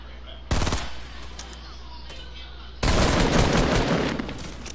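Gunfire in a video game: a brief automatic burst rattles out first, then after a pause a long, loud, continuous spray of machine-gun fire dominates the rest.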